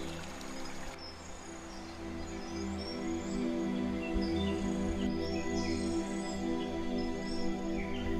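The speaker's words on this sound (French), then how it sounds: "Seuls les oiseaux font entendre leur voix." Birds call in a tropical forest, scattered chirps and short whistles sounding at moderate distance over a steady low background hum, with no talking.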